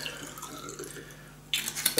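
Chilled still citrus water poured into a glass of absinthe, a soft trickle becoming a brighter splash near the end, close and quiet.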